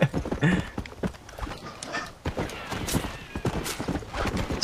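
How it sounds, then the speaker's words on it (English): Horse in the Red Dead Redemption video game neighing and whinnying over steady clip-clopping hooves, loud and close, with gunfire-like bursts and game noise around it. "My horse has gone haywire."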